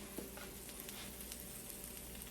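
Meatballs sizzle steadily in a hot pan, a dense continuous hiss with faint crackles and pops throughout.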